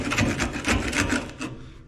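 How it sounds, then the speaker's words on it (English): Flat board scraping grime off a dirty pontoon, repeated close rough rasping strokes in a fairly even rhythm, alone without talk. "just scrape this whole thing with a board or some type of flat surface"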